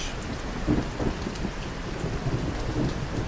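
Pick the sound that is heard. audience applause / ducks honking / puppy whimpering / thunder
thunder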